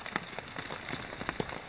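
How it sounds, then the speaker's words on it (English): Rain patters steadily on a campsite, close and soft, with scattered individual drops tapping over a continuous light hiss. "So that's a good thing, because it's going to be raining all day."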